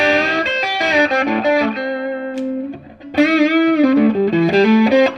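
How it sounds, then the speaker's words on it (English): Distorted, overdriven electric guitar, a Mexican Stratocaster through a tube screamer pedal into a Fender Tone Master Deluxe amp, playing a run of notes with a thick, saturated tone, a brief pause in the middle, then more driven licks. "Actually, that's the distortion and tube screamer."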